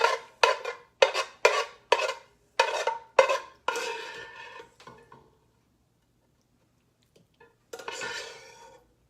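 A slotted spoon scrapes and stirs zoodles in a pan, beginning with a quick series of sharp metallic taps and scrapes. After a brief rustling stir comes a quiet pause, then one last scrape near the end.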